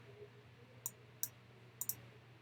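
Computer mouse clicks during photo editing: four short, crisp, faint clicks, the last two close together, over a quiet low background hum.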